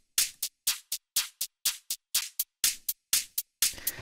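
Electronic drum loop with new shaker and hi-hat samples: crisp, bright paired hits repeat in an even rhythm, each burst short and airy with clean gaps between, close and dry with no voices.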